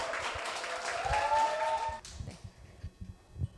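A conference audience applauds as a speaker is welcomed to the stage: a dense wash of clapping for about two seconds that stops abruptly, leaving a quiet room with faint scattered sounds.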